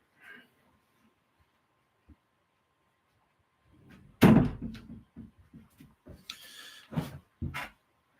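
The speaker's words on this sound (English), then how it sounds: "I'm just going to shut my door" An indoor door is pushed shut with a firm thud and latch click, followed by a few lighter knocks and handling sounds in a quiet room.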